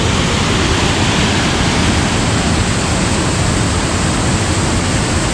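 Close, dense roar of a waterfall, a steady broadband rush of falling water that stays loud and unbroken throughout, with no voices.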